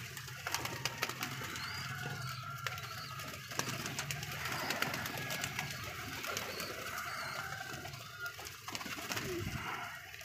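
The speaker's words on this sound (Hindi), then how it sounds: "दिखाएं दोस्तों को कबूतर" Pigeons cooing while being fed grain in the morning, repeated soft throaty coos from several nearby birds over a rustling background with occasional pecking clicks and a faint distant engine.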